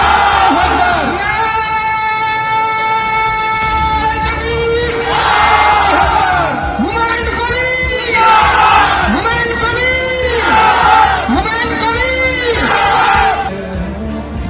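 A large crowd in Murshidabad chants religious slogans in loud, rhythmic waves of massed voices, with whoops and cheers rising and falling over a steady roar.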